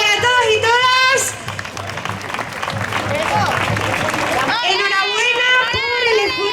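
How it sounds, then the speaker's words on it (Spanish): Audience applause at the Desfile de Jato parade in Cáceres, a crowd clapping and cheering in a busy outdoor mix that includes children's voices, with a person speaking before and after. "Así que un aplauso para todos y todas."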